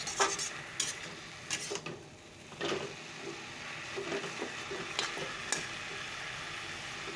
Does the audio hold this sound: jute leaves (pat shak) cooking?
yes